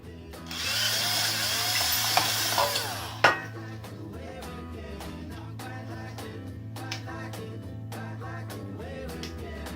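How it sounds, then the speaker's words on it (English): A power drill spins a 3.5 bit into a pedalboard mount for about three seconds with a high whirring grind, then stops, and a series of light clicks and taps follows as the work is handled. "I'm going to set up the drill and then we're going to drill the holes"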